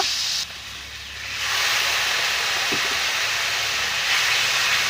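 A broad hiss rises and holds steady as a little water meets hot spice masala in a pan during fish curry cooking, loud and close, with no talk.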